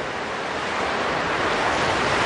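Steady, dense surf noise from ocean waves on a beach in the Xenosaga video game, a continuous loud wash with no breaks and no voices.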